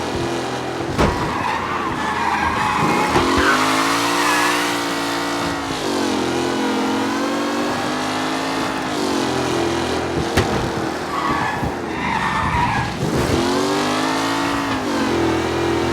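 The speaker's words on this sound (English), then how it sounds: "What a race today, folks! The driving's been incredible!" Race cars in the Mafia Definitive Edition video game rev and skid continuously, with engine tones rising and falling through repeated acceleration sweeps and a sustained loud roar throughout.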